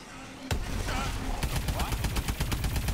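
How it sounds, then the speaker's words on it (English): Gunfire from a gun in the video game Exo Zombies: a loud opening shot followed by rapid, sustained bursts of shots, close and dense, with faint background game sounds. "this gun officially sounds better than it does in the multiplayer as well"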